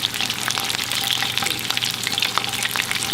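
Fish frying in a skillet of hot oil for Southern cooking, a loud, steady crackling sizzle with dense spitting pops, close and continuous throughout with no talking.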